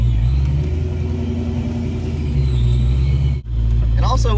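A tuned car running methanol injection roars with a loud, steady low rumble that holds throughout, then cuts out abruptly near the end before picking up again.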